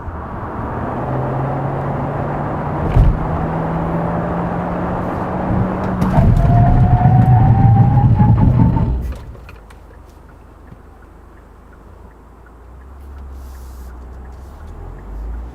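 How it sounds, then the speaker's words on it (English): A Kia Seltos compact SUV running on 235/45 R18 tyres drives with a loud road and engine hum that swells as it brakes hard, then drops suddenly into near quiet once it comes to a complete stop. "Now let me show you the braking performance of Seltos."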